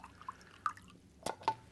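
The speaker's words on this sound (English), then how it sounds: "if I take this little mug here and I pour the water out into it" Water from a bottle drips and trickles into a small mug in a few faint, scattered splashes and plinks, close by and otherwise quiet.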